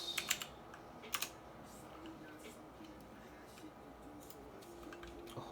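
Typing on a Motospeed CK62 white mechanical keyboard with Outemu Blue switches, a few sharp clicky keystrokes in small bursts near the start and middle, faint and close over room hiss.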